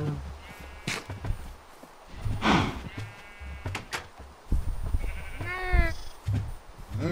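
In the Minecraft video game, cows moo and bleat several times at close range, mixed with footsteps and other game sounds, while a person talks briefly.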